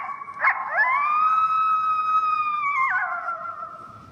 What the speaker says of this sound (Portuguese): Agora o som da raposa.